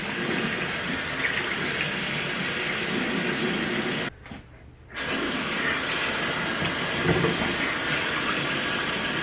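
A tap runs steadily into a sink while makeup is washed off with face wash, a close, continuous stream that cuts off briefly and then starts again, with no voices.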